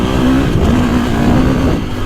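A 2025 KTM 350 XC-F dirt bike with 13.1 hours on it holds a loud, steady engine drone while being ridden, with a slight rise in revs partway through.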